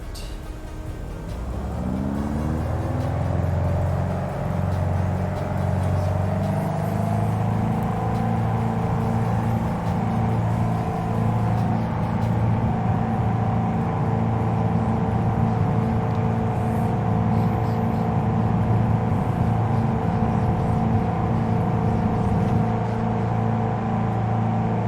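Twin engines of a Piper PA44 Seminole in Microsoft Flight Simulator 2020 spool up into a steady, loud droning roar during the takeoff roll, holding a constant throbbing hum throughout with no speech.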